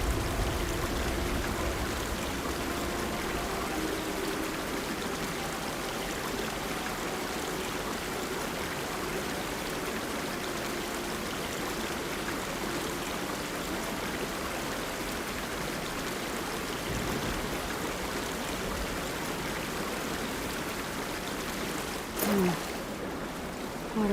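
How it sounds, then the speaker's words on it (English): Water gushes steadily from a busted pipe in Horizon Forbidden West, a continuous rushing splash that holds even and fairly close for the whole stretch, with a brief metallic clank near the end. "Water's pouring out of that busted pipe."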